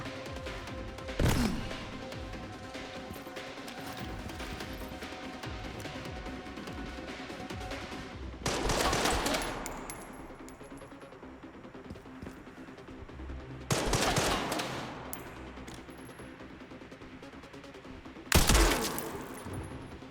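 Gunfire in Resident Evil Requiem comes as several loud, broadband bursts spaced a few seconds apart, each a sharp blast with a brief trailing decay over a steady low game ambience.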